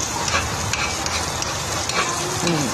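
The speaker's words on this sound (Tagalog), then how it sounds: "Gigisa ko lang yan guys" Garlic, onion and tomato sauté in a pan for anchovy with egg and hotdog, giving a steady close sizzle with scraping stir strokes throughout.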